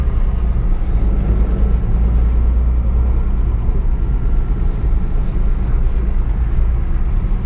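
A 1961 Mercedes-Benz 220Sb W111 sedan with a fresh radiator, still smoking a bit, drives along with a steady, loud low engine drone and road rumble throughout, no talk.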